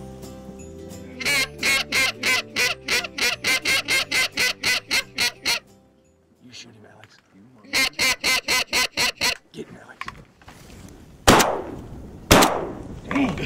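Waterfowl hunt on small water: repeated goose-like honking calls in rapid bursts, then two loud, sharp gunshots near the end, close and distinct.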